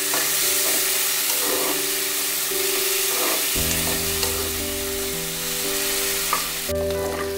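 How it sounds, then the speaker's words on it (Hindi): Chopped onions fry in a pan for palak paneer, with a steady, close sizzle and crackle and occasional stirring scrapes throughout, no voices. "इसमें चॉप्ड अनियन डालेंगे। अनियन को हम थोड़ा पिंक होने देंगे।"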